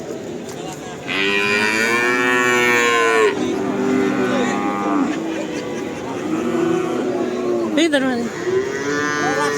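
Pegon cattle at a livestock market give several loud, drawn-out moos nearby, one after another, with people talking in the background.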